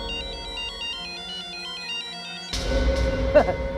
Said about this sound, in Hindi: ये सेलफोन किसका बजा?